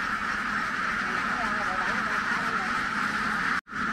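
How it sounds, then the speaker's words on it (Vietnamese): A large flock of ducks from a free-ranging egg-laying herd of about ten thousand quacks continuously and loudly as it is driven out of its pen, a dense steady chorus that cuts off abruptly near the end. "Rồi đang chuẩn bị lùa vịt ra nè cả nhà."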